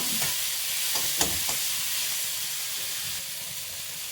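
Tomato and spices fry in a tablespoon of oil in a pan for naati-style chicken sambar, a steady close sizzle and hiss with a few soft stirring clinks early on.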